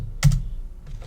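A couple of close keystrokes on a computer keyboard while a course number is entered in Workday, a firm thock followed by a softer tap, no voices.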